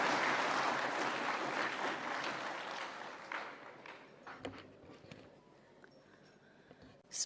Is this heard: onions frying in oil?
no